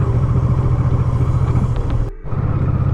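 A motorcycle rides over bumpy cobblestones on the way to a castle in Kremenets, Ukraine, with a loud steady engine rumble and rattling, and a brief dip in noise near the end.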